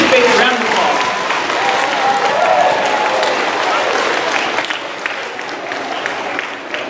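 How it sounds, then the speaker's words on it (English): A loud round of applause rises from the crowd at a school assembly, many hands clapping with voices and cheers mixed in, easing somewhat toward the end. "Let's give everybody from this space a round of applause."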